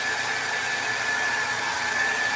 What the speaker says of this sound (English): so we're just going to hit it with the hairdryer